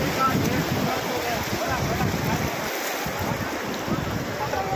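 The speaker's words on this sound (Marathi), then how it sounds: "रोडून जात आहे पाणी" Floodwater from a cloudburst-swollen river rushes over a road, a dense steady roar with wind buffeting the microphone throughout.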